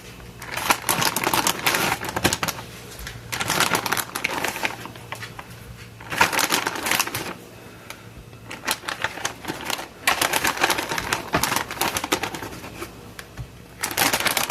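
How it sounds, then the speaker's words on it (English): A knife chops venison chunks into smaller pieces on a board, in bursts of rapid, close tapping cuts separated by short pauses, repeated several times. "so I'm going to cut them up into smaller pieces"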